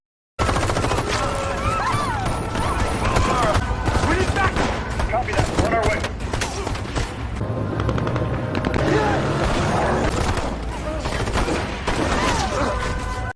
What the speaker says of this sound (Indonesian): Hingga adu bedil pun terjadi.